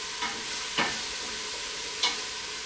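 Minced garlic stirred in a pan for chicken soup gives a quiet, soft sizzle beneath two brief scraping strokes of a utensil, faint and close with no voices.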